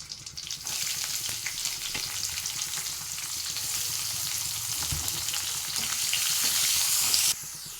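Sliced onions frying in hot oil in a Kerala-style pan already holding mustard seeds, dried red chillies and curry leaves, a loud, steady, close sizzle with occasional stirring scrapes, cutting off abruptly near the end.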